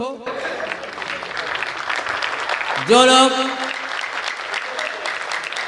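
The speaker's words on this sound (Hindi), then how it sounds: "थोड़ा सा और तालियां बजा दो जितने लोग हो।" An audience at a Hindi comic poetry recital claps steadily, a broad wash of applause running throughout while a presenter speaks over it, with a brief louder tonal burst in the middle.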